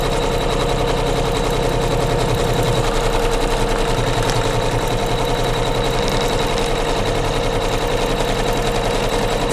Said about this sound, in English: it is stitching it directly on my batting